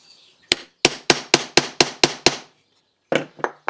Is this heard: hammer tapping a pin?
yes